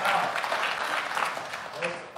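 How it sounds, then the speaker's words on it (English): A church congregation claps their hands, a steady mid-level patter of many hands with some voices mixed in beneath it. "That's worth clapping your hands about."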